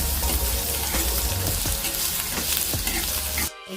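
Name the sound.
sautéing paratha filling in a pan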